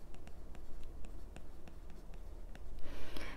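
Chalk or marker writing out a position vector formula during a math lecture, a run of close, rhythmic scratching strokes and taps with short pauses between them.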